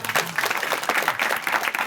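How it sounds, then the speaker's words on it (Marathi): An audience at a religious ashram gathering claps together in a brief burst of dense, lively applause. "टाळ्या वाजवून घ्या."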